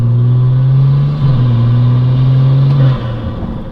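A Stage 2+ BMW 340i cruising along a canyon road, its engine a steady, loud low drone that holds level, then eases off as the revs drop near the end.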